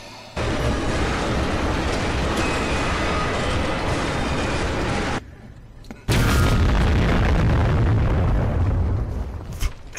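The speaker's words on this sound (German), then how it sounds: "Ist da was explodiert?" A loud, sustained roaring boiler explosion in the game Amnesia rumbles for several seconds, breaks off briefly, then a second heavy explosion roars back in and slowly fades.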